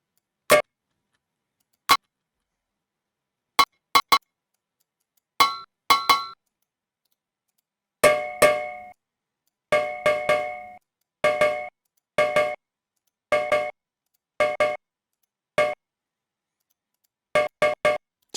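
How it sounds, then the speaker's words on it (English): Pan hits struck as Foley percussion ring out as sharp metallic clinks, first single and sparse, then in quick clusters of bright ringing strikes spread across the stretch, close and alone with no talk. "Let's go into my Foley. Pan hits."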